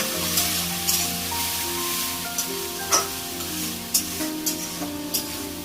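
A pan of fried Gobindobhog rice and spices for Bengali muri ghonto sizzles steadily while a spoon stirs it, with several sharp scraping clicks against the pan over a continuous frying hiss.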